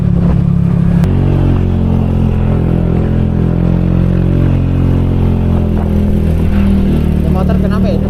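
Motorcycle engine droning steadily at close range along a mountain road on a touring ride from Jakarta to Cianjur, a low constant rumble with wind noise throughout and a person talking over it.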